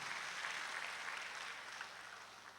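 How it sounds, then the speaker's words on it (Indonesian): A church congregation at an evangelistic revival meeting breaks into applause: dense, steady clapping that stays loud and even throughout, with no voices on top. "Amin saudara, berikan tepuk tangan."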